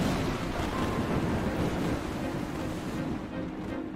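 Flood water and waves in the Roblox game The Island give a steady, loud rush of surf and water with some wind-like noise. The sound is continuous and fills the whole stretch, and no talking is heard.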